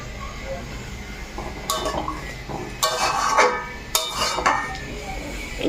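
Fried lentil dumplings (bori) dropped into a simmering pot of potato and bean curry, a few clinks and clatters of utensils against the cookware, close and moderately loud with faint kitchen hiss.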